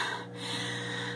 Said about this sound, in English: As you can see, you get out of breath quite fast